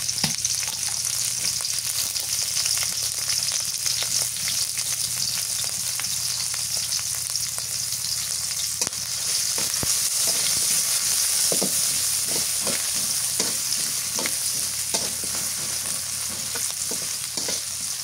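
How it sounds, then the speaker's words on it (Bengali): Raw dried fish frying in oil with chopped onion and green chili for a cabbage dish, a continuous loud sizzle with occasional stirring scrapes and clicks from the pan. "শুটকিটা কাঁচা তো তেলের মধ্যে ভেজে নিতেছি, পেঁয়াজ মরিচের সাথে ভাজলে ভালো হবে।"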